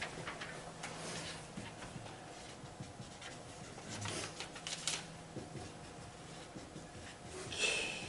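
Pen or pencil writing notes on paper during a statistics lesson on matched pair testing, with soft scratchy strokes and rustling at close range and no talking.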